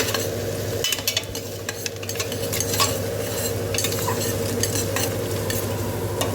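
Onions frying in a pan for ghee rice, a steady close sizzle with scraping stirs and light utensil clinks throughout, no voices.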